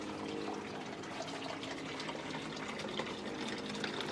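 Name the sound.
water flowing into fish pond biofilter after opening pumps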